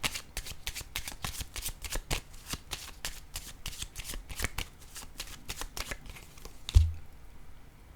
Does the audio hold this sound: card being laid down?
yes